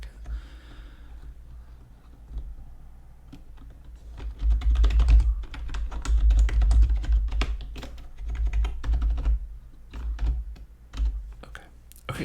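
Rapid clacking of computer keyboard keys, continuous and fairly close, with bursts of faster typing and soft breathing underneath, in a quiet whispery setting.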